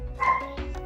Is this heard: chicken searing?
no